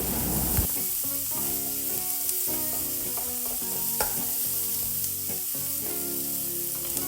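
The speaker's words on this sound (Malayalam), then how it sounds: "അതും കൂടി ചേർത്ത് കൊടുത്ത് നല്ലോണം ഒന്ന് റോസ്റ്റ് ചെയ്തെടുക്കാം" Chopped shallots roast in a pan for a Kerala-style prawn roast, giving a continuous crackling sizzle close up with light stirring, while steady tonal sounds run underneath.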